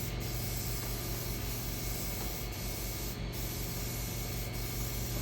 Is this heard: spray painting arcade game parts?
yes